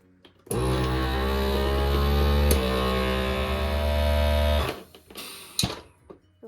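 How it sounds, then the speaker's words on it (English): A vacuum sealer runs with a steady, loud motor drone while packaging food, then cuts off near the end, followed by a few brief clicks and small noises as the lid seals. "Right before the sealer shut off, you heard this little noise, and that was actually the lid sealing."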